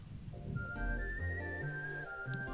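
A synthesized whistle plays as a lead in a music mixdown, with a bright sustained line that slides in pitch over bass notes. It is fairly quiet and short, and no one speaks.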